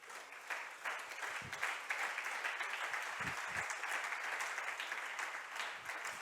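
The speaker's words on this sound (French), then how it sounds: "Est-ce qu'on peut acclamer pour le Seigneur?" A church congregation applauds steadily for the Lord, with dense, sustained clapping and a few cheers, moderately loud and continuous throughout.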